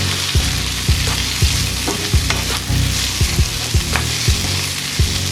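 A utensil scrapes and knocks rhythmically against a pan as thyme and herbs are stirred into food frying with a steady sizzle, close and clear, with no talking.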